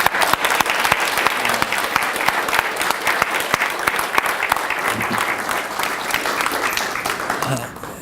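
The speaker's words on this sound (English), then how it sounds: "Let's please give them a round of applause." An audience at a talk on communicating with teens applauds a group of young people, a dense, sustained burst of many hands clapping at steady strength that fades out at the very end.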